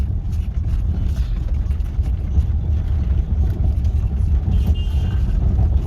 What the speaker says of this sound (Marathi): किती ट्रॅफिक आहे